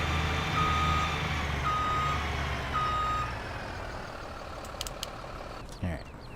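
Reversing beeps from a fire truck backing into the station in the game FS:911, a steady series of evenly spaced electronic tones over a low idling diesel rumble, followed by a few clicks and a thump near the end.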